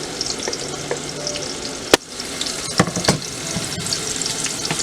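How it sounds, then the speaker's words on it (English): Chopped ginger frying in a pot for catfish curry, a close continuous sizzle with a sharp utensil knock and a few stirring scrapes, no talk. "We're gonna let this fry a little."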